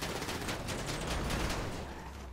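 Gunfire in Grand Theft Auto V, a dense, continuous stretch of rapid shots close up and loud, crackling steadily for about two seconds with no talk.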